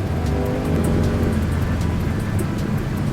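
Engine of a 2008 Mercedes-Benz CLK63 Black Series with the AMG M156 6.2-liter V8, a loud steady rumble while driving, heard from inside with road noise and no speech.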